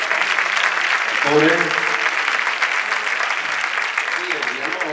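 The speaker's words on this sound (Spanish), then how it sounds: "un aplauso para el técnico que le estamos dando la noche" Steady applause from a live nighttime show audience in Spanish, with dense clapping filling the whole stretch while someone briefly speaks over it.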